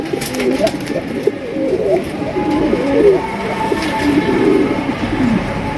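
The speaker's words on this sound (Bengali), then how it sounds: "দেখেন কত সুন্দর ডাক। ডাকটা শোনেন।" A top-quality fancy racer pigeon with colored rasgolla markings gives a continuous run of deep, burbling coos, near and fairly loud, with little pause between phrases.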